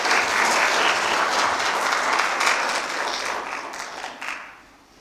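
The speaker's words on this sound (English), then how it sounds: "Can we give him a round of applause?" An audience applauds at a Peter E. Clarke art exhibition: dense, steady clapping from many hands that swells and then fades toward the end.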